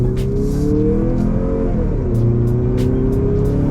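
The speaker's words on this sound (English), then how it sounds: "So I'm in sport mode right now, pulling out onto the highway, gonna full throttle it" Mazda CX-50 turbo in sport mode at full throttle while pulling onto a highway, engine note climbing steadily and loud from inside the cabin, with a short dip as it shifts.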